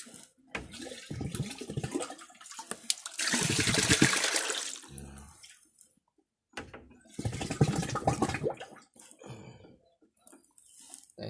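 Water pours and gurgles into an antique crackle-glaze jar in two sustained bursts, loud and close, with pauses and small knocks between them.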